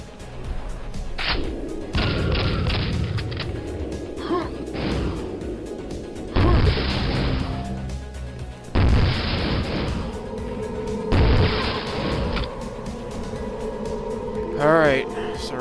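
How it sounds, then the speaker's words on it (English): Rocket jump explosions in Quake, several heavy booms and thuds spaced a few seconds apart, mixed with game sounds and running continuously under steady talk. "I guess I didn't even realize you could use this thing to rocket jump"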